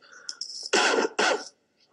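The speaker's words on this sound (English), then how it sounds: "have a cough." Two harsh, close coughs in quick succession follow a few seconds of quiet murmur from a podcast studio setting, then silence.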